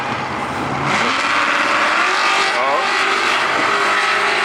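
Drift cars, a Camaro against a Fox Body Mustang, rev and slide at Sonoma Raceway. Loud engines roar and rise in pitch alongside squealing tires, with a brief exclamation from a spectator.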